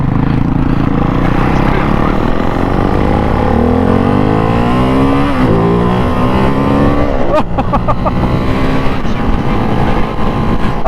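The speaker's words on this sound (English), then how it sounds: "I've just cracked the throttle opening and I've just got the front lift a little bit." KTM 690 SMC R or Ducati Mono 698 single-cylinder motorcycle revving hard as the throttle is cracked open, loud and close with rising and falling engine pitch under wind noise.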